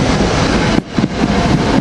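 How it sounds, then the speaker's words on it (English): A SEPTA commuter train bound for Trenton pulls out of a station during rush hour, a loud steady rumble with wind buffeting the microphone and a brief dip midway. "Here we have the SEPTA train to Trenton leaving"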